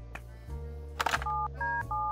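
Telephone keypad tones beep out in the video game Harvey's New Eyes, a handful of distinct dialing tones in uneven rhythm over a low steady hum, with one brief burst of noise in the middle and no talking.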